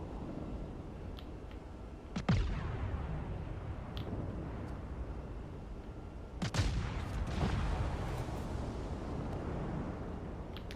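Naval guns of the US destroyer USS Benham, its 5-inch mounts, fire in World of Warships Legends: two heavy booming salvos, one near the two-second mark and another around six and a half seconds, each rolling away over a steady rumbling background.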